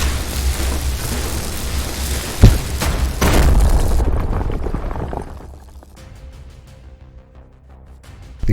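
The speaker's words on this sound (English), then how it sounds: "The explosion destroys the tunnels." A heavy rumbling explosion collapses tunnels in the tactical video game Shardpunk Verminfall, a sharp blast followed by a thick roaring swell that slowly fades into a quieter game soundscape with a final thump.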